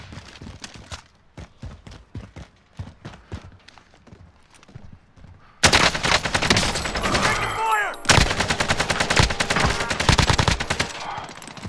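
Rapid gunfire in the battle-royale game Warzone: a run of separate shots early on, then dense, loud sustained bursts of automatic fire with effects layered in the second half.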